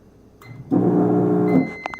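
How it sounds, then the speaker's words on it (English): A microwave oven hums steadily with a buzzy, droning tone, preceded by a few faint clicks and ending with soft beeps or clicks. "The microwave makes a really funny noise when you run it."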